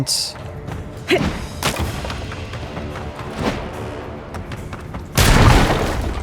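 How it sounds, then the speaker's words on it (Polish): Several heavy booms and thuds from explosive barrels blowing up in the video game Avowed, with crackling debris, one loud blast near the end; game effects under a busy background. "słyszę jakieś beczki wybuchowe"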